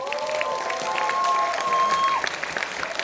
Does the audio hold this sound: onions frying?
no